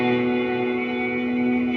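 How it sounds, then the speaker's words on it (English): Electric guitar played through a Cave Reverb effect for post-rock ambient tone, a loud sustained chord washing into a dense, even reverb tail that holds steady throughout without a break. "Right there, that's just the Cave Reverb"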